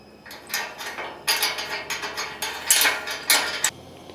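Close metallic ratcheting and clicking in repeated short bursts while bracket nuts are tightened on a Rivian R1S/R1T running board install, with pauses between runs of turns and no talk.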